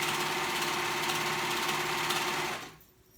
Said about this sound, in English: a serger is just so much quicker and easier, and gives it like a good finish